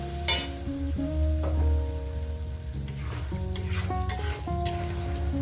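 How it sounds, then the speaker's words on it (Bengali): Spice paste for mutton curry being fried and stirred in a pan, a soft sizzle under repeated spatula scrapes, with a steady musical tone running underneath and no speech. "আরও চার পাঁচ মিনিট করে এভাবে কষিয়ে নিই"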